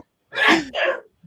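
Two quick sneezes in a row, loud and close, the first sharper and the second following right after with a brief gap.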